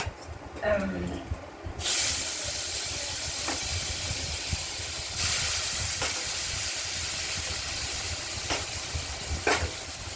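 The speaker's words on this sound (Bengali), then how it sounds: "আলুগুলোকে আমরা ভেজে নেবো লাল করে। একটু লাল করেও ভেজে নেব ফোড়নের সঙ্গে।" Potatoes hit hot oil in a kadai with tempering spices such as nigella seeds, setting off a loud, steady sizzling hiss that continues throughout with brief clatters of stirring, while a person talks at times.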